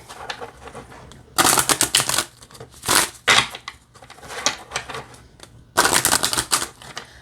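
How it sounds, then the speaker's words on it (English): A deck of oracle cards being shuffled, giving three bursts of crisp, rapid riffling and flicking, loud and close, separated by quieter handling. "All right, let's give it a shuffle."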